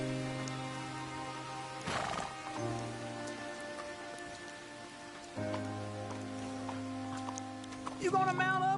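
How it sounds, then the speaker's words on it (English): A horse in the video game Red Dead Redemption 2 whinnies near the end, over steady rain pattering on surfaces and a sustained tonal game score, with a soft clip-clop and brief thuds earlier in the scene. "You got a horse? Get on it."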